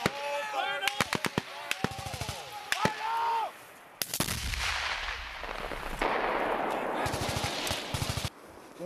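Bursts of machine gun fire ring out during US Army paratrooper live-fire training, sharp rapid volleys and single shots cracking loudly outdoors between shouted commands and talk.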